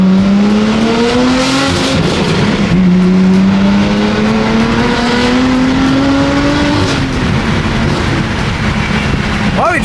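BMW cars, including an E92, driving fast in a group, with a loud engine note that rises steadily as it revs, drops at a gear change, then climbs again, close and continuous, with people talking over it.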